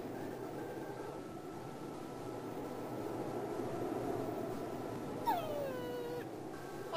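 Puppy whimpering in the video game Mother 3: a thin, wavering whine near the end rises and then slides down, heard over a steady low game background hum.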